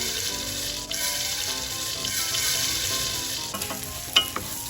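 Risotto rice toasting in a pan, a steady soft sizzle and scratchy stirring with a few light clinks near the end, no voices.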